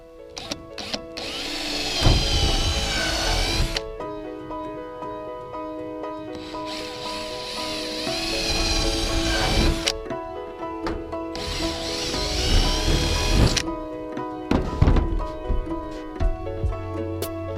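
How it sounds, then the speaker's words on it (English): A power tool whines and grinds while cutting holes through a metal roof in several long bursts, with pauses between, clattering and scraping close by; no one speaks. "I'm gonna go up top, start cutting holes through the roof."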